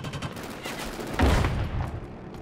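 Gunfire in a Killzone Shadow Fall team deathmatch in the Slums: a steady patter of shots with a sharp, heavy close burst just past the midpoint, then quieter firing trailing off.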